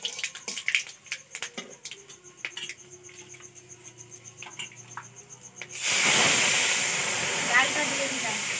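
Lentils go into hot oil tempered with cumin, dried red chilli and bay leaf: after several seconds of light clinks and handling, a loud, steady sizzle bursts out and keeps hissing.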